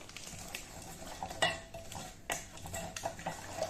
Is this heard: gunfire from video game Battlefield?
no